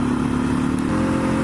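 A quad bike with a manual clutch pulls away in second gear after a shift, its engine giving a loud, steady, close drone that holds without a break.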